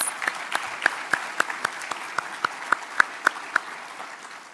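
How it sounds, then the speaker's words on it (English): A small audience at a CSUMB open house gives a sparse round of applause, a few distinct claps at a steady rhythm standing out over a soft background patter, fading toward the end. "Please, another round of applause."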